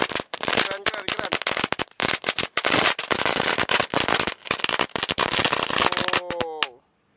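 A long-fuse whip firecracker string goes off outdoors in a loud, rapid, dense run of cracks and pops that lasts several seconds, with a voice calling out near the end as it finishes.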